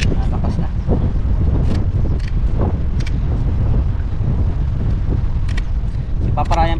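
Strong typhoon wind roars steadily and loudly outdoors during solo fishing near a balete tree, a dense, unbroken rush close to the microphone, with voices talking over it.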